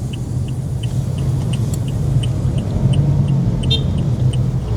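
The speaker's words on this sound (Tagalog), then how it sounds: "dalawa na yung truck ng scoop. May kasama tayong dump truck." Heavy road traffic rumbles steadily on a barangay street, where a dump truck and trucks hauling scoops roll past at close range. The low engine drone stays continuous with no talk over it.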